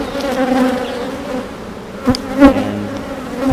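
Honeybees buzz steadily inside a hive with a queen present, a dense close drone holding throughout, with a few brighter rising tones near the end that could be the queen piping.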